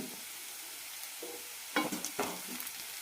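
Onions sautéing on a low flame with a pinch of salt for Kerala onion rice, a soft steady sizzle broken by a few louder stirring scrapes near the end.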